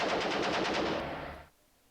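Hull machine gun firing in the Armoured Commander 2 tank game, a quick rattling burst of rapid shots lasting over a second before cutting off and fading.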